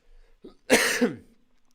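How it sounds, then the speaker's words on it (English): A single close, sharp cough bursts out after a faint throat sound, then quiet follows. "I don't have any throat spray either for this stupid cough."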